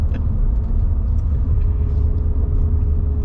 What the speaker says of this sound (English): Definitely has that steady climb of power as you would get with the naturally aspirated motor